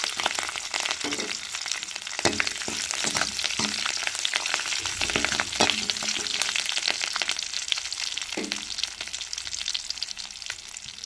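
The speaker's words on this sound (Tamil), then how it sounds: "எண்ணெய் சுடரிச்சு கடவுள் வந்து போட்டுக்கிறோம் ரெண்டு கருவேப்பிலை போட்டுக்கிறோம் தேவையான வத்தல் சேர்த்துக்கிறோம்" Curry leaves and dried chillies frying in hot oil for village-style rasam, a dense continuous sizzle with crackling pops and occasional scraping stirs, close up and without talk.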